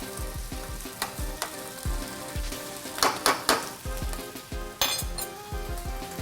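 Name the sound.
veal dish sizzling in a hot pan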